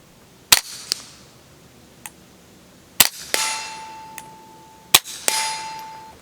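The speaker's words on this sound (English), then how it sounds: "Now we've got some Remington Subsonic, this Jimmy Jam. It's actually coming out of the gun at the same speed as the Subsonic CCI" Suppressed .22 pistol shots with Remington subsonic ammunition through a Rebel SOS-22 silencer: several sharp, fairly quiet pops, each followed by a metallic clang of a steel target ringing out, spaced a second or two apart.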